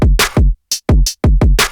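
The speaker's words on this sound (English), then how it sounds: "So that's the sound of my saturator" A gritty, saturated drum loop with heavy kicks and crunchy snares in a fast, punchy rhythm, loud and dense with short gaps between hits.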